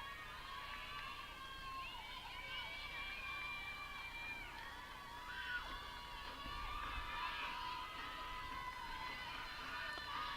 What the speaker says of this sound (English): Both crowds getting into it